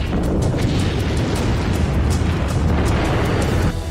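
Wartime blasts in the Russia-Ukraine conflict, heard as a dense, loud, continuous roar of rumbling booms and crackling bursts filling the whole stretch with no voices.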